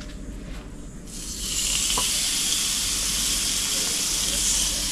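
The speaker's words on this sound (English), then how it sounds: "Listen to that sizzle." Tomahawk steaks hit a grill at 250 °C and break into a loud, steady sizzle that swells after a second and holds as a continuous bright hiss, with low background noise underneath.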